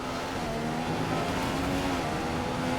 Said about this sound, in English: on board with Jenson Button as he comes into the really harsh braking zone